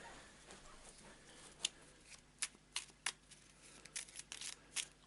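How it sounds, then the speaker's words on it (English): A reserve deck of cards for the Eldritch Horror board game is shuffled close by, producing a quiet run of crisp riffling bursts and soft card slaps in an irregular rhythm, with no talking. "Quick shuffle."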